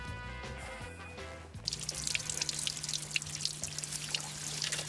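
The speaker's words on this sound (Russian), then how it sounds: "Это родниковая вода. Ручей течет из самого сердца горы." A spring-fed stream flowing from a mountainside, a steady close trickle and splash of running water with a constant low hum beneath, rising slightly after a quieter, muffled opening.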